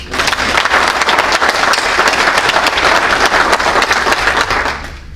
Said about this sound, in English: Let me have, first of all, a round of applause for Ray Dalton.